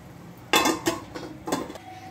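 A spoon scrapes and clanks against a pot while pumpkin curry with spices is stirred, giving three or four distinct metallic strokes over a faint background hiss.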